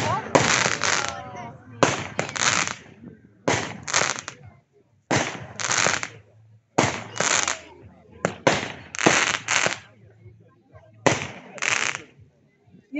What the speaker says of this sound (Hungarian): ez egy 9 lövéses picike kis telep, nem nagy, buli indító neveket adnak neki